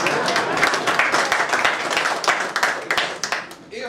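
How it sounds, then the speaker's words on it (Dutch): A seated audience at a book presentation bursts into applause, dense overlapping claps carrying on evenly for a few seconds before thinning out near the end, with faint voices mixed in. "Ook een applaus waard."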